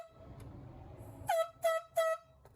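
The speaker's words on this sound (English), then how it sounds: "Biologists later tried again, using air horns to flush the bear out." Three loud, sharp air horn blasts, each about a quarter second long, sound in fairly even succession after a low rumbling background, used to flush a bear out of a house basement.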